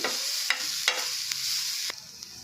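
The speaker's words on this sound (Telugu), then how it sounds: "హై ఫ్లేమ్లో 1 మినిట్ ఇలా కలుపుతూ ఉండాలి" Sweet corn and mixed vegetables are stirred in a dry pan over a high flame, a steady sizzle broken by a few sharp scrapes of the spoon against the pan.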